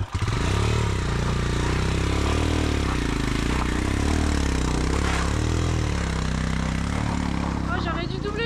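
A BMW GS motorcycle engine runs during a training session, a loud, continuous close-up drone with rising and falling revs as the bike moves off, and people talk over it.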